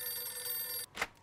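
A telephone rings in the video game Mafia 2, a shrill continuous bell that cuts off abruptly, followed by a brief faint clunk.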